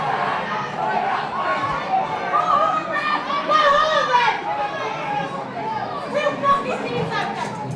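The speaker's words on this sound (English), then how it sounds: "Crowd getting very, very angry with the referee here now." A Gaelic football crowd at a county club semi-final shouts and jeers at the referee, a loud, rowdy mass of overlapping voices swelling and falling.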